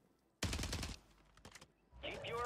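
Rapid bursts of submachine-gun fire from the WSP Swarm in Call of Duty Warzone, loud and close, with a brief pause before more shots and a rising electronic game effect.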